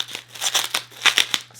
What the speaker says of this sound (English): I should have taken them out of the bubble wrap beforehand.